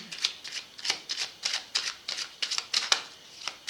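A deck of tarot cards is shuffled by hand close up, giving a quick, papery rhythm of riffles and flicks that is continuous but quiet, with no voices.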